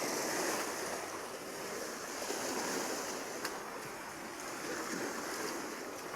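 Rough sea surf rolling and crashing along a shore, a continuous broad roar with gusty wind buffeting the microphone, steady and fairly loud from start to finish with no voices.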